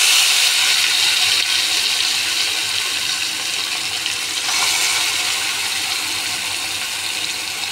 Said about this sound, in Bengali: মাছগুলা দিয়ে ভেজে নিচ্ছি।